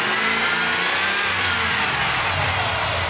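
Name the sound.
Dodge Dakota engine revving under acceleration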